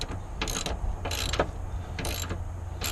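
A ratchet wrench with a 15mm socket backs a bolt out of a rear IRS subframe on a 2017 Ford Mustang GT350, giving three separate bursts of quick, close metallic clicking, with short pauses between them.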